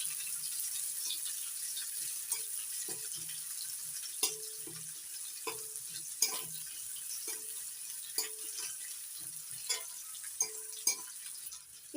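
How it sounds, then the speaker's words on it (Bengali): Small sliced onions frying in a pan for a pomfret curry, a soft background sizzle broken by repeated scraping strokes of a spatula, close and fairly quiet, with no voices. "পেঁয়াজটা একটু ভেজে নেব।"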